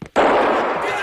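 An assault rifle fires in a loud, continuous close-range burst in a film scene, a dense sustained roar that starts abruptly after a brief sound and runs without pause.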